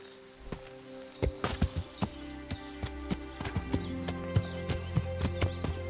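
Horse hooves clip-clop in a steady walking rhythm while riding in a video game, the clear thuds repeating over a low sustained tonal background.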